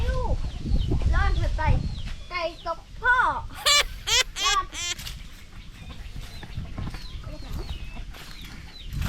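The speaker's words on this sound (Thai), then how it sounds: "ไก่ลาย" Clucks and short calls from backyard chickens, including a striped hen, rise in quick bursts close by, while someone talks over them.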